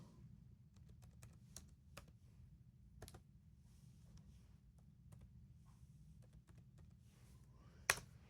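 Someone types on a computer keyboard, a quiet irregular patter of key clicks with a few sharper taps and one louder click near the end, over a low background hum.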